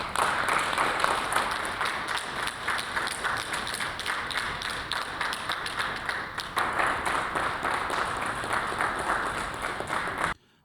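A room of government members led by the Prime Minister applauds an orchestra conductor on his arrival, sustained dense clapping from many hands that continues evenly for about ten seconds before stopping abruptly.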